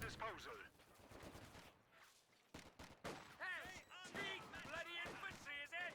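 Machine gun fire in the video game Company of Heroes 2, sharp bursts of rapid shots mixed with other battle noise and explosions, with a commentator talking over it.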